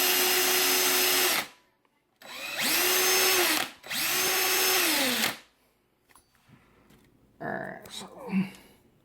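A power tool polishes a trumpet lead pipe during a Bb-to-C conversion, whining loudly in three bursts that spin up and wind down, separated by short pauses, followed by quieter handling clatter and a voice.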